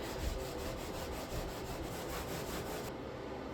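Rapid rhythmic rubbing strokes against a surface, a close, steady scrubbing sound with no voices.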